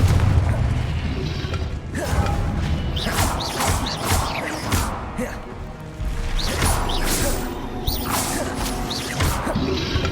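Confringo blasting-spell explosions in the wizarding game Hogwarts Legacy: loud, repeated booms and crashes mixed with whooshing spell sweeps, fairly continuous and dense across the whole stretch.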